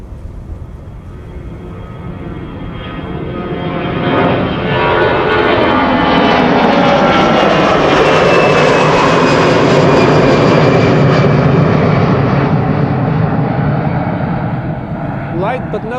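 A 26-year-old Airbus A319 jet airliner takes off at Schiphol Airport, a loud, sustained engine roar that swells and holds steady, with the pitch of the jet whine shifting as it passes.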